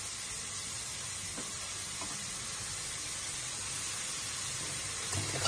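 Onions and chili fry in a pan with a steady, even hiss like steam, moderately quiet and unbroken, a few faint clinks, and no talking.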